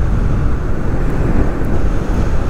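Strong wind roaring over the microphone while riding an electric scooter on a path near Torcy, a loud, steady buffeting rumble throughout with no talk.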